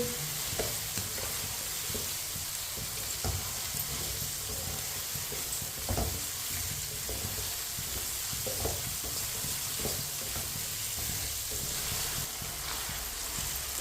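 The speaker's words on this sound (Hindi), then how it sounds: "आलू को भी 2 मिनट के लिए पका लेंगे" Potatoes frying in a pan with peas for matar pulao, a continuous close sizzle with occasional scraping stirs and no talk.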